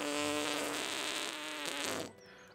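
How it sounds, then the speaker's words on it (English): A fart sound effect in a video game blares as a long buzzing, tonal blast of about two seconds, then cuts off abruptly, with no voices. "Right click is the fart button."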